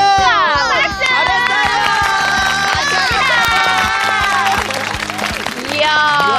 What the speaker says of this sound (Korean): 모든 친구들에게 크게 박수 쳐줄까?